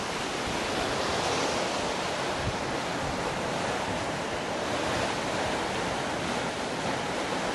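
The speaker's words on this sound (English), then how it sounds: "your underwing is going to be hit by waves like that" Ocean waves slap and rush against the underwing of a Nautitech 40 catamaran at sea in a continuous loud wash of water, mixed with wind noise and no speech.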